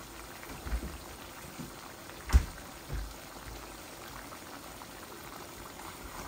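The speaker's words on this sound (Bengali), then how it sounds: "এই যে এগুলো শুধু ভুনবো, এই টমেটো থেকে, আদা রসুন থেকে, পেঁয়াজ থেকে, চিকেন থেকে পানি বের হচ্ছে" Chicken with tomato, ginger, garlic and onion cooking in a pan, giving a soft continuous bubbling sizzle as liquid releases, with a few louder clinks of a utensil against the pan.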